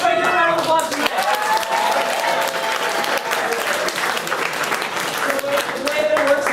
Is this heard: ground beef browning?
no